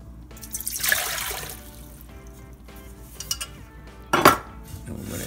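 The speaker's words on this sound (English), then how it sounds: "We're going to put our water into the mixer bowl." Water poured into a mixer bowl while making homemade pizza dough, a soft trickle with clinks of dishes and utensils, including a louder clatter near the end, close and fairly quiet.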